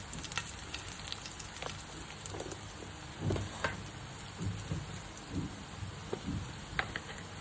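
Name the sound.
curry leaves, garlic and spices frying in oil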